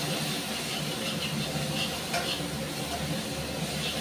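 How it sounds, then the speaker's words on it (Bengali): Spice masala frying in oil with salt, a steady dense sizzle with faint stirring scrapes, continuous and close. "এবার মশলাটাকে আমি খুব ভালো করে কষিয়ে নেব"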